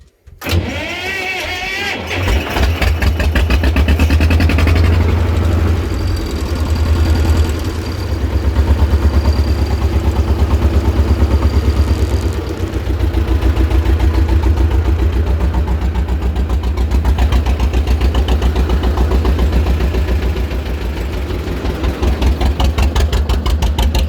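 A T16M tractor engine idles while warming up, a loud, steady low rumble with a fast, even chug that runs close and alone for the whole stretch after a brief start.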